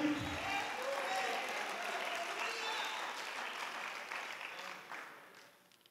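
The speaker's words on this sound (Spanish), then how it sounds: "Den un aplauso al Señor Jesucristo." A church congregation applauds during a sermon, dense sustained clapping with some crowd noise that holds steady and then gradually fades out toward the end.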